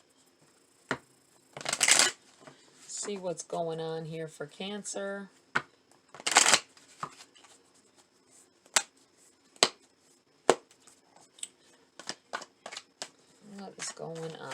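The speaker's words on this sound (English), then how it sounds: "Let me do a quick shuffle again." Quick riffling bursts of tarot cards being shuffled, a couple of sharp flurries and scattered snaps, with a person talking in between.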